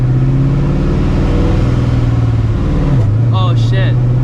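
A supercharged New Edge Ford Mustang GT with a 700 hp setup and a lightweight flywheel drones loudly from inside the cabin, its pitch stepping down as it is downshifted, followed by a few brief chirps.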